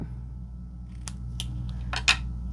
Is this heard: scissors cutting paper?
yes